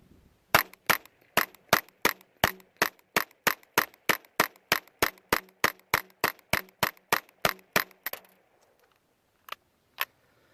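A .22LR Ruger Charger pistol fires standard velocity rounds in a rapid, evenly spaced string of about twenty sharp, loud shots. After a short pause, two more single shots follow with no talking.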